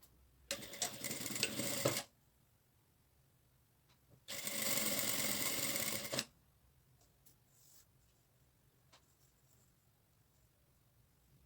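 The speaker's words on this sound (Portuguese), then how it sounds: "E aí eu vou fazer a costura unindo essas 3 camadas." Sewing machine stitching a seam that joins three layers of fabric for a fabric folder with an adjustable strap, two loud close bursts of running with a pause between, then quiet with faint handling clicks.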